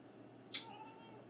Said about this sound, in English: cat's excited